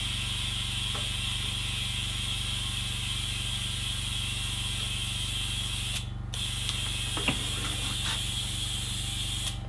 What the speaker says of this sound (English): And now we blow it up to the actual pressure that it's supposed to be. Hopefully we've got enough juice in the compressor.